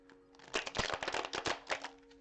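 A shaman oracle card deck is shuffled, giving a quick run of soft riffling clicks and flutters for about two seconds, faint and close, with no talking.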